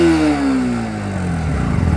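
A Bajaj Pulsar NS 125 motorcycle engine winds down from a rev, pitch dropping smoothly, then settles into a throaty, pulsing idle close by.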